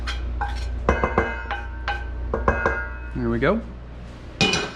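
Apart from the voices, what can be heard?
tossing cauliflower in syrup in a pan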